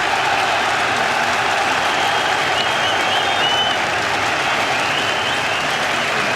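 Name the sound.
cricket crowd applauding a 200 milestone at the Ashes Test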